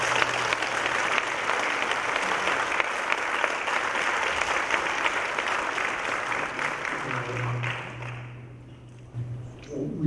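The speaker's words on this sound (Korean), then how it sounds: "큰 박수 부탁드리겠습니다" A church audience at a university professors' mission rally applauds steadily to welcome a pastor to the stage, a full room of clapping that holds for several seconds and then thins out before a voice begins speaking near the end.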